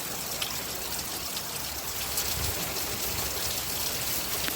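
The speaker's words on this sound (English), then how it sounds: "you can kind of hear it pouring down on my son's truck" Heavy hurricane rain during Hurricane Sally in Alabama pours onto a truck in a steady, hissing wash of drops. It stays fairly faint and unbroken, with no voices.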